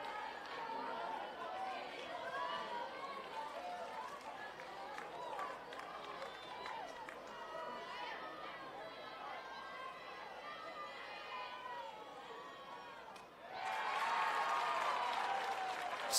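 Softball fans at a Class 3A state championship game, Hanover Central supporters, keep up a steady buzzing crowd murmur with chatter throughout, then break into a louder surge of cheering near the end.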